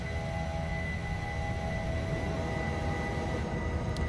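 Steady, even jet cabin drone from a Boeing 737 Max 8 in a flight simulator while the flaps retract, a constant broadband hum with no talk.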